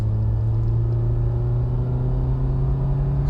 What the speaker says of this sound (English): Okay, so there is something special about this kind of acceleration.